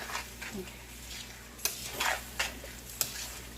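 Beef broccoli sauce being stirred into a thick paste in a pan, with soft scraping and a few sharp utensil clicks against the pan over a low background hum.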